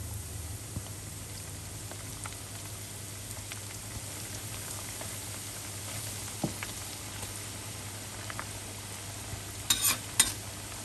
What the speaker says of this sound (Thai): จากนั้นเราก็นำปลาหมึกลงเลยค่ะ สะบัดแป้งหน่อยนะ ก่อนนำลงทอด